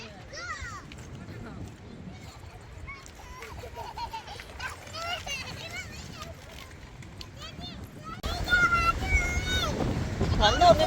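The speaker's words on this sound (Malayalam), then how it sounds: "കാറ്റ് കൂടിക്കൊണ്ടിരിക്കുക" Strong gusty wind buffeting the microphone outdoors in Sharjah, UAE, a steady roar that swells louder toward the end, with people and children talking over it throughout.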